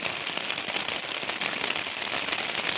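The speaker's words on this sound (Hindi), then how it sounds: "देखिए कितने ज़ोरों से बारिश हो रही है" Heavy rain pouring onto garden plants, a dense, steady hiss with constant patter of drops, loud and close, with no talk.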